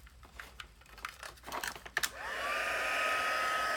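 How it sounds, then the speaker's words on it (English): A heat tool starts up and blows a steady, loud whooshing airflow while melting silver embossing powder on a stamped card, after some soft crinkling and tapping handling sounds. "And then what we do is we heat that with our heat tool"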